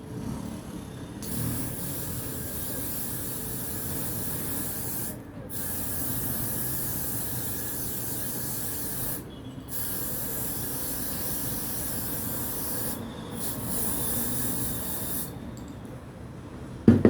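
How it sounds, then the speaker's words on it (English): Hairspray misted over braided hair in long continuous bursts, a close, steady aerosol hiss broken by a few brief pauses between sprays. "And also don't forget your spray"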